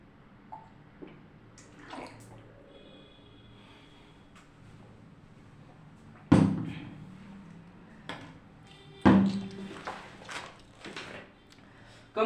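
Water is poured and drunk during a pause, with trickling and swallowing sounds broken by a few sharp clunks of a container being handled nearby.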